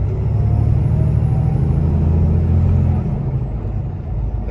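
A PACCAR truck with an Endurant automated 12-speed transmission and a PACCAR 510 engine rolls forward, giving a steady, close, low engine rumble that eases slightly near the end.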